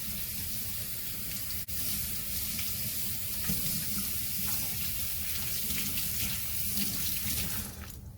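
Tap water runs steadily into a sink as hands are rinsed, a constant close splashing rush with brief changes as the hands move under the stream.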